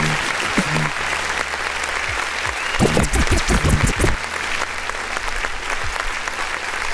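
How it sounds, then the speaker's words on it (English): Applause during a live music review stream for underground artists, with a steady wash of clapping alongside a few louder, closer claps and some low background sound. "let's go ahead and do another clap"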